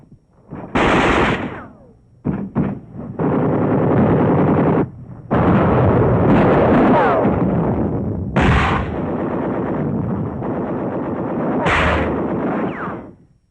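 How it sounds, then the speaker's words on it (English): Loud World War II battle gunfire in the Pacific on Angaur, with machine guns rattling in sustained bursts and heavy mortar blasts punctuating the clamor, continuous and close for over thirteen seconds with no talk. "This final phase of the fight for Bloody Gulch brings machine guns and mortars into action."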